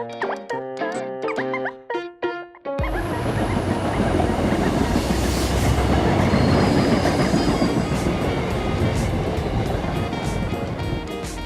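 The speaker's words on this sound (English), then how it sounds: "if that was the last train out of town, I just missed it." A train rushes past nearby after a few seconds of plucked music, a loud, sustained roar with clattering wheels and a high metallic squeal running to the end.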